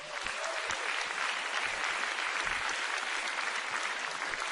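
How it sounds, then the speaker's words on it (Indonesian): Dense, sustained applause from a large crowd at the 2014 Indonesian presidential inauguration in the MPR building, greeting Prabowo Subianto; steady and loud throughout with no break. "Kita berikan tepuk tangan"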